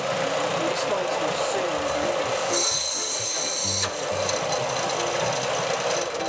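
A small nickel arrowhead rubbed against sandpaper, giving a steady close-up rasping scrape that continues through the whole stretch with a brief brighter, harsher patch midway.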